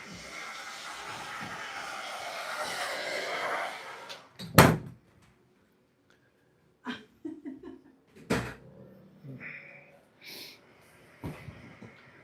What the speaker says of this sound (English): I went and shut the bathroom door.